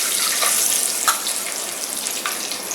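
Groundnuts sizzle and crackle in hot oil inside a clay pot with curry leaves, a steady close frying hiss broken by occasional sharper pops and stirring scrapes.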